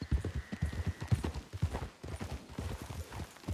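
Horse hooves clip-clop in quick uneven rhythm in Red Dead Redemption 2, several horses trotting close and fairly soft, with a brief faint tone early on.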